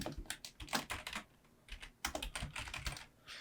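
Fingers typing on a computer keyboard, close and quiet, with bursts of rapid key clicks separated by a short pause midway.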